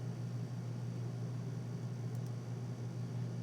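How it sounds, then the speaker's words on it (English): An EMD 645 two-stroke turbocharged V16 diesel locomotive engine in the Derail Valley game idles with a steady low rumbling drone, constant and unbroken, heard alone. "It's an EMD 645 two-stroke diesel."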